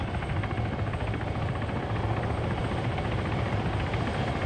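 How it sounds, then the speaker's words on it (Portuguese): Hellcat helicopter in the video game Arma 3, a loud, dense, steady rotor beat and engine roar filling the whole stretch, close by, with no talking. "Chegou um helicóptero aqui, um Hellcat."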